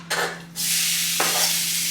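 Chicken sizzles loudly in a hot pan, a burst of frying followed by a steady crackling hiss, close up with no talking.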